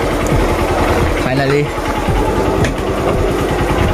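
A motorbike engine idles with a steady buzzing rattle while the bike is being parked, close by and continuous, as people talk over it.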